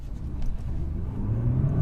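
A 2017 Nissan GT-R Premium with all-wheel drive launches hard from a standstill, its engine rumbling close and loud, then climbing in a rising, strained pitch as it pulls away.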